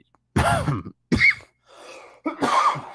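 Several rough coughs and throat-clearing bursts from a podcast host, close to the microphone, four short separate bouts over a few seconds with silence between them.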